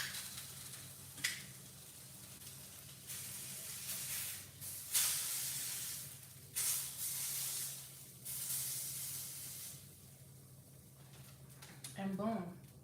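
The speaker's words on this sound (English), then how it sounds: "But then I sear it on both sides" Ahi tuna sears in a hot pan with a steady sizzling hiss that swells in several bursts, likely as the fish is pressed or moved. A voice briefly rises over the sizzle near the end.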